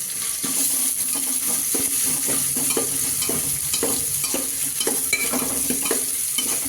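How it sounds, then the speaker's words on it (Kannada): Chopped onions and tomatoes frying in a pan, a steady sizzle under rhythmic scraping and tapping of a spoon stirring against the metal, close and continuous. "ಇವಾಗ ಈರುಳ್ಳಿ ಹಾಕ್ತೀನಿ. ಈರುಳ್ಳಿ ಜೊತೆ ಒಂದೊಂದು ಟೊಮೆಟೊ ಕೂಡ ಬರ್ತಿದೆ"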